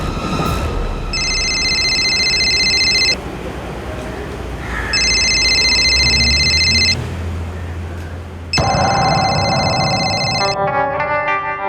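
An electronic phone ring repeats in long bursts, three rings with short pauses between, loud and close over a background hum.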